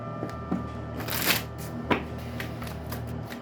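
A deck of oracle cards is shuffled at close range for a tarot reading, a soft riffling with a few sharper flicks and slaps, quiet and alone with no talking.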